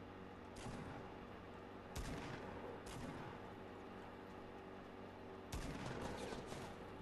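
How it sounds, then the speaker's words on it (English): Faint gunfire in a Fortnite squad match, with a few distinct shots spaced apart over a steady low background, the last burst slightly louder, as if fired from a nearby house. "somebody taking shots at me"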